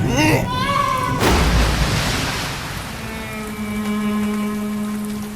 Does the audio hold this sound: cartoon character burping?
no